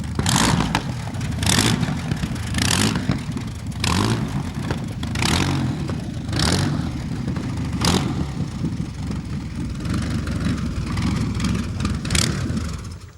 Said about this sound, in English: Can you give it a bit of a rev?